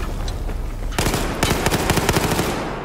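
Rapid automatic gunfire from the Battlefield 4 video game bursts in loudly after a second of quieter battlefield ambience, then keeps up as dense, overlapping volleys of shots to the end.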